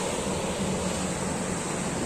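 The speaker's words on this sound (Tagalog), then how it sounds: "Grabe yung alon mo" Ocean waves at a seashore with mussel-covered rocks, a continuous loud rushing surf wash blended with wind buffeting the microphone, no voices.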